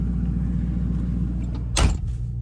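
A Crown Victoria with an H-pipe and muffler delete idles with its door open, a deep, steady exhaust burble up close, broken by a short knock or rustle near the end.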